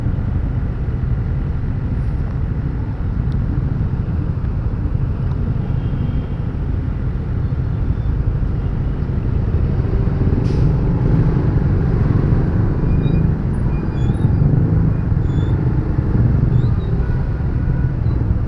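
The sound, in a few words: manual motorcycle riding on road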